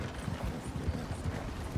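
Horses clip-clop in the RedM roleplay game, a steady rhythmic patter of hooves at an easy pace, close and alone with no speech over it.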